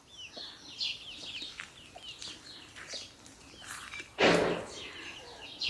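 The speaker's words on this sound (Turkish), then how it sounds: "İkisi tavuk, ikisi horoz." Chickens and roosters cluck and call softly in intermittent bursts, with one louder squawk partway through, outdoors and fairly close.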